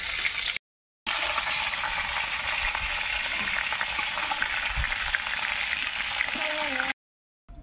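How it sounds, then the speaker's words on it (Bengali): Cauliflower florets fry alongside paneer in a pan, giving a dense, even sizzle that crackles steadily for several seconds, broken by short moments of silence at the start and end. "পনির ভেজে নিচ্ছি, এখন আমি ফুলকপি ভেজে নিচ্ছি।"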